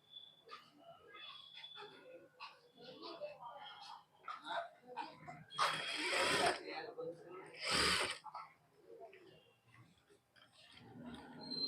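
A domestic sewing machine stitches a frock for a 10-year-old girl in bursts of mechanical clatter and ratcheting, with two louder runs of stitching, while someone talks over it.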